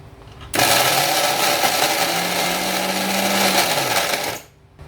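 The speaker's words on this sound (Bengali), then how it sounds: "এখন এটাকে আমি ব্লেন্ড করব।" An electric blender switches on and whirs loudly and steadily for about four seconds while blending boiled jackfruit seeds, with a faint rising motor tone before it cuts off.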